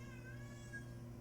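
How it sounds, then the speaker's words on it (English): Pet cat giving a single short, faint meow in a quiet room, heard alone over a low background hum. "That's my cat."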